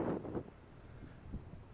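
Gusty wind buffets a microphone outdoors at the Wyoming Classic golf course, a low rumbling rush that is strongest at the start and then settles into a softer, steady blow with no one talking.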